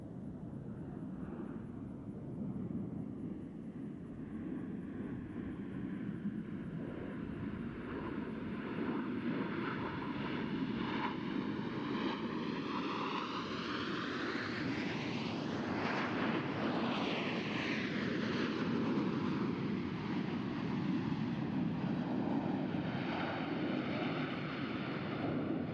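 A four-jet Blue Angels diamond formation sweeps past at the NAS Oceana air show, its roar building from a distance, peaking loudly overhead with a sharp pitch drop, then fading away.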